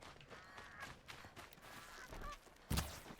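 Goose honking in Horizon Zero Dawn, a few short calls over ambient game sound, ending in a sharp, louder burst near the close.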